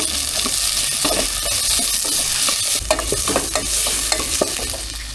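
Chopped tomato is added to garlic, onion and ginger in a hot pan, and a loud, steady sizzle follows, broken by the scrape and clatter of stirring.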